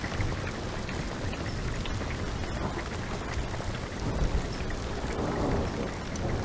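Steady heavy rain pours on Monroe Peak, Utah, with low thunder rumbling through the downpour during a summer hail and thunderstorm, loud and continuous with no one speaking.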